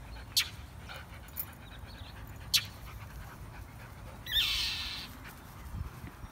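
A Labrador dog pants and whimpers softly outdoors while an agitated bird, likely a protective parent near its nest, calls nearby; a few sharp short cries and a brief higher call stand out over a steady low background.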